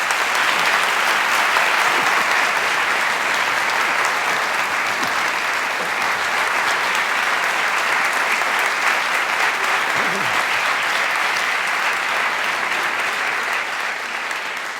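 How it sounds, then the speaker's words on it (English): Sustained applause from a large audience at a live debate, steady and even throughout, with no break in the clapping. "Can we have a round of applause for both our guests?"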